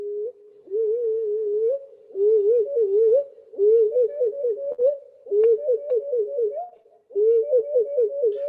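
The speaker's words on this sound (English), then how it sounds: "that's what the curlew sounds like. Now, he took this and then he slowed it down 10 times." A curlew's call slowed down ten times, turned into low, drawn-out wavering whistles that rise and fall in repeated phrases with short gaps, clear and close.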